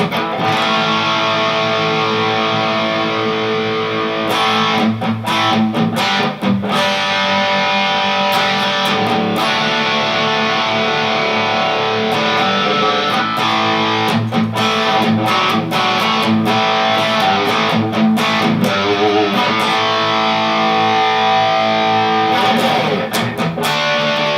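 Chapman ML1 Norseman electric guitar played through its Seymour Duncan bridge pickup with tone and volume fully up, giving a loud, continuous distorted riff with sustained chords and choppy muted strums at close range.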